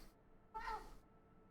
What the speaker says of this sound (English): Ooh, little kitty cat.